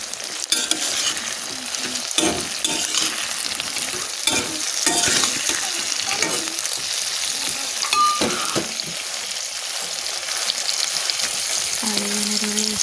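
A jujube (boguri) pickle fries in a pan, with a steady sizzle under repeated scraping and clattering stirring strokes close by.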